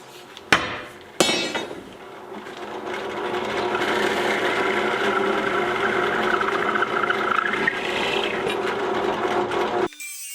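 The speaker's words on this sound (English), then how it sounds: "So what I'm going to do is drill a hole that far into this thing, about halfway through." A wooden sign post being drilled about halfway through, with two sharp knocks at the start, then a steady close whirring grind that runs for several seconds before stopping abruptly.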